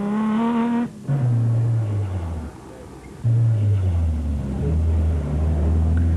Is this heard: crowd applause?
no